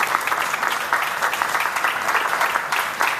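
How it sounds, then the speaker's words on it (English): A crowd applauds at the groundbreaking ceremony for a new Walmart store in Gentilly with the mayor present, brisk steady clapping that holds at an even level throughout. "Let's give them one more round of applause."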